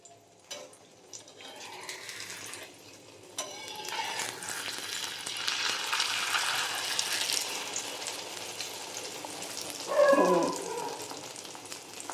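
Two eggs fry together in a pan. A broad sizzle builds and holds steady, with scattered clatter from a utensil and a brief louder burst near the end.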